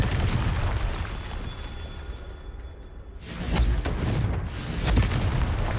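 A blasting spell from a video game erupts in a loud, sudden boom with a rushing burst that rumbles on for a few seconds after a quieter lead-in.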